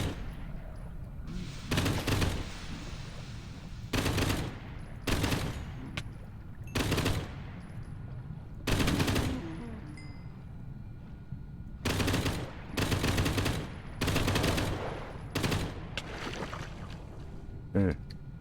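A weapon in a modded Minecraft game fires repeated loud bursts of gunshots, each lasting about a second, with short pauses between them. Someone talks in the gaps between bursts.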